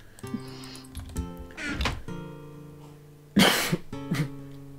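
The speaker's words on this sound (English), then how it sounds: "That was a cough." A single sharp cough sounds, then a second loud burst, with tonal game music and effects playing throughout.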